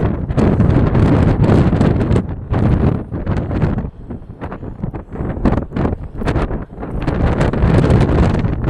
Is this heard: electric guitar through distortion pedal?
no